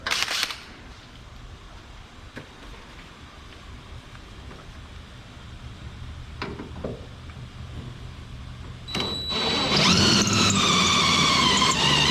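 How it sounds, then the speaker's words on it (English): A spot weld cutter bites into spot welds on the body of a 1967 Chevelle at the inner windshield pillar. After a quiet stretch with a few faint knocks, a sharp, high, whining grind starts up close and loud near the end. "The handy dandy spot weld cutter."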